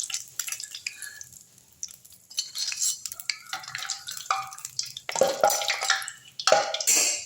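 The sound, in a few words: murukku frying in oil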